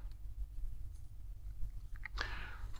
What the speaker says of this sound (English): And the legs crunch